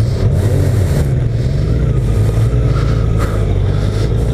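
A Honda CBR 1000 RR Fireblade motorcycle drives a racetrack at Interlagos, its engine holding a loud, steady, close drone throughout with no clear rise in pitch.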